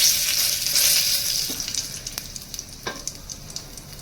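Garam masala fries in hot oil in a pan, giving a loud, steady sizzle that gradually fades, broken later by a few sharp clinks and scrapes of stirring, with no voices.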